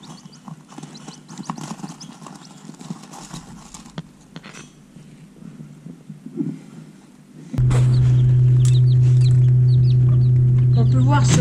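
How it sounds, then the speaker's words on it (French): Pekin chicks and laying hens clucking and cheeping, scattered calls over a busy background, then a loud steady hum takes over in the second half and partly masks them. "On peut voir sur la vidéo des poussins pékins et de poules pondeuses."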